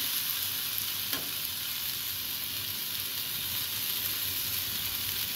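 Sugar and water fry in a pan for hog plum (amra) chutney, giving a continuous, even hiss of bubbling sizzle with one brief sharp tick near the start.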